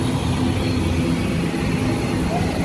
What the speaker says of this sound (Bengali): আরেকটা বিমান ল্যান্ড করেছে, সেই বিমানের আসলে একটু সমস্যা হয়েছে।